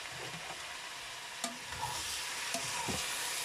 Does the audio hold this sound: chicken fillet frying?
yes